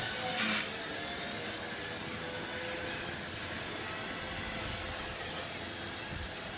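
Eachine 129 mini RC helicopter flying nearby, a steady high-pitched electric whine of small rotors and motor holding level throughout, fairly loud and continuous with no talking.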